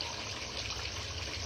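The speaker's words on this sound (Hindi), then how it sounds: "ये गिलास है, प्लीज हम पानी डाल रहे हैं" Water poured from a glass into a cooking pot during home cooking of a potato and meat dish, a steady, soft trickling splash running continuously and fairly quiet, with no voices.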